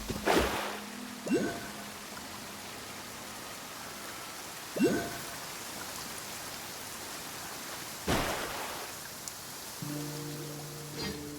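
Steady hiss of heavy rain fills a Genshin Impact game scene, continuous and fairly quiet, broken by a few short louder bursts and brief tonal game sound effects.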